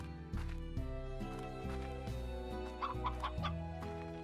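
A roosteroo in the Slime Rancher video game gives a few short clucks near the middle of the clip, heard over steady background game music with no talking.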